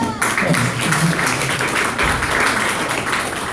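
A comedy show audience fills the room with dense, continuous applause, a steady wash of many hands clapping together at close range with no talk on top.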